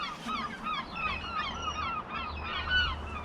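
Seagulls call repeatedly overhead about a mile from the sea, a cluster of overlapping honking cries above a low steady rumble, fairly faint.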